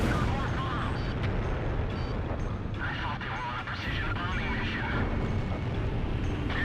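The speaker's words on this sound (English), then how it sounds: "Holy loud bombs." Loud booming bomb explosions from the aerial combat video game Ace Combat Zero, a dense continuous barrage of blasts and rumble with a voice talking over it.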